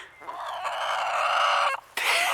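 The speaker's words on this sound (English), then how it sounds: "What are you screaming about? You're a crazy chicken." A chicken squawks in a loud, sustained, harsh screech that breaks off briefly and then resumes, close to the microphone with no talk over it.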